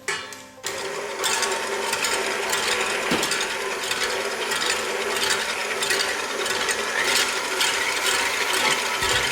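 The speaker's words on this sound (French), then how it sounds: "je vais commencer par monter ma crème en crème fouettée" Electric mixer whipping cold cream into whipped cream in a chilled bowl with a chilled whisk, a loud, steady mechanical whirring and rattling that starts abruptly and keeps running at an even speed.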